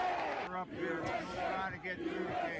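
Protesters massed at barricades, a loud agitated crowd of shouting voices and cries that holds steady across the short stretch, close and chaotic.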